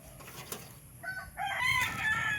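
A rooster crows once in the distance, a short rising call that fades out near the end, over faint background hiss.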